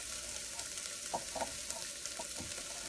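Butter melts in a pot for broccoli cheese soup, giving a soft, continuous hiss with a few light taps and clinks of stirring on top.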